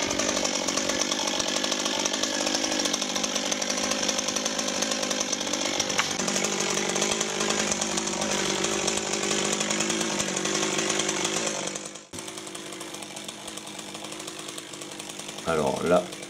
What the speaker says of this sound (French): On peut faire un trait de scie en direct.